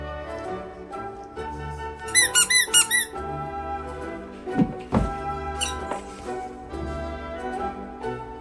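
Squeaky toy eggs squeezed in a quick burst of about five high squeaks, then scattered single squeaks, thunks and soft taps nearby.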